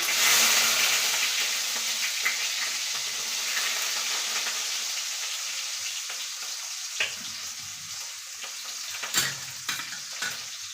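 Chopped onions fry in hot oil in a pan, giving a loud, steady sizzle that gradually settles, broken by occasional clinks and scrapes of stirring.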